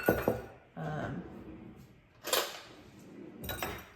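A spoon scraping and knocking against a container while scooping thick sourdough discard, a few short clinks and scrapes in bursts with quiet gaps, close by.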